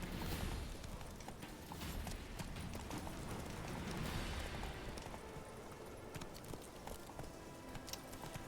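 Horse hooves clip-clop steadily at a walking pace in The Witcher 3, loud and close with a continuous game ambience beneath and no talk over them.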